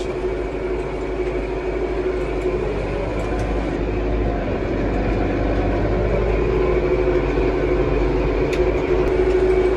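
A Tümosan tractor engine running steadily, a dense low rumble with a constant mechanical hum that holds unchanged throughout, with no talk over it.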